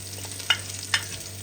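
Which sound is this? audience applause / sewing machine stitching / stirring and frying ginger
stirring and frying ginger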